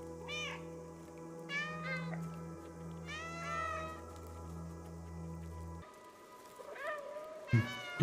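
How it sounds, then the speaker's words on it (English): A cat meows repeatedly in the video game Stray, several drawn-out mews spaced across the stretch over a steady low game hum that drops away near the end, followed by a short thump. "I can meow on command."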